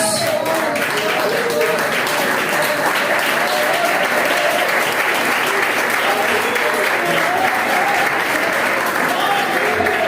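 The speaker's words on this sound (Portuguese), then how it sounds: "sempre glorifica com as melhores palmas para Jesus" Congregation at a Brazilian evangelical church service claps for Jesus, sustained loud applause filling the room for ten seconds while a voice speaks over it.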